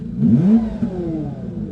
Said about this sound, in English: these Bunkel engines are known for having a great sound when you rev